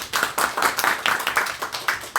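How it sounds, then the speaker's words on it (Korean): Applause from an audience at a company meeting, steady and fairly close, lasting a couple of seconds with no talk over it. "박수 들어갑니다"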